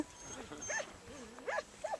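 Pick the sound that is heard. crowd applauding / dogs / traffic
dogs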